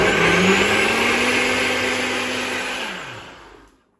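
A blender pulses a rice flour batter for hoppers, a loud, steady motor whine that runs for a few seconds, then winds down and stops, alone with no talking.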